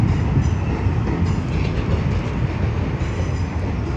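A train at London Charing Cross station, a loud, continuous close rumble of wheels and carriages rolling along the track, steady throughout without speech.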